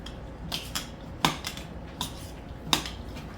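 A utensil scrapes and taps against a bowl while chopped veggies and meat are mixed with egg yolks for a keto egg bake. The clinks come in a sparse, uneven rhythm, close and fairly quiet, with no talking.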